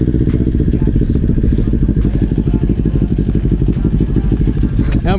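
Kawasaki Ninja 400 motorcycle engine running steadily up close after starting, a loud continuous rumbling idle with mechanical clatter throughout.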